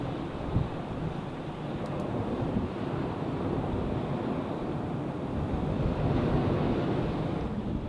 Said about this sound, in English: The tide's on its way in now, so Kev's down the beach